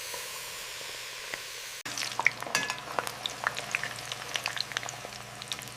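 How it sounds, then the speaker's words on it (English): Marinated shrimp sauté in a hot pan, a steady sizzle that jumps in suddenly after a quiet start and carries scattered crackles and pops up close. "In goes our marinated shrimp. Sautéing them very quickly."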